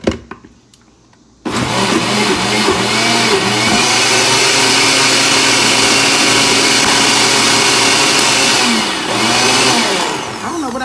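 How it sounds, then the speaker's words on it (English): A blender motor starts abruptly and runs loud and steady, its pitch wavering as it churns a chocolate shake, then dips briefly near the end. "just gotta blend it up some more."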